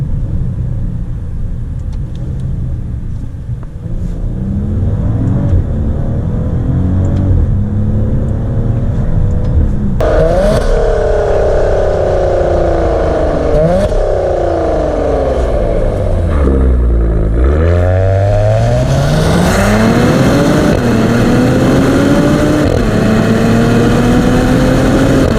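A 2021 Maserati Ghibli S Gransport V6 revs and accelerates from inside the cabin, engine pitch rising and falling through several sweeps over steady road and wind rumble, loud and close with no talking.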